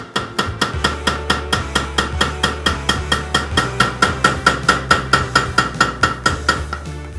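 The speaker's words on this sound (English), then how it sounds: "the next step is cold forging" Hammer cold forging a kuro-uchi nakiri knife blade, a fast steady series of sharp metallic ringing blows, around four per second, loud and close with no talk.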